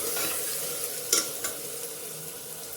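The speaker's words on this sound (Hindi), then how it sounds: "अदरक लहसुन का पेस्ट इसमें डालते हैं। सभी चीज़ों को अच्छे से चला करके भून लेंगे।" Ginger garlic paste being stirred and fried in a pan for jackfruit curry, with a soft steady sizzle under a few light scraping stirs, fairly quiet and close.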